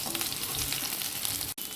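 Stuffed ivy gourds fry in a pan for a Telugu stir-fry, giving a steady, close, dense sizzle that runs throughout and cuts out briefly near the end.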